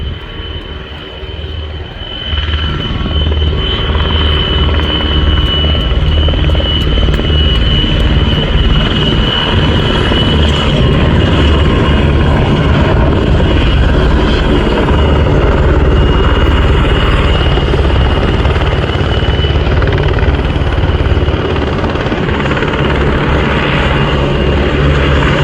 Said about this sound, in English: Rescue helicopters, as I say, from the Czech Air Force